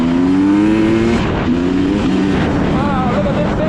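Beta XTrainer 2024 motorcycle engine revving hard and accelerating close by, its pitch climbing in strong rising sweeps with brief drops between gears, while a rider exclaims over it.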